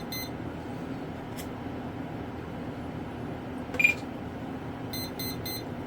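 An RC plane's electronic speed controller on an Arrows RC T-28 Trojan powers up with the throttle at full, giving faint high electronic beeps: a single tone, then a brief cluster, and finally three quick beeps over a steady low hum.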